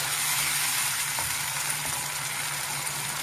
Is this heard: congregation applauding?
no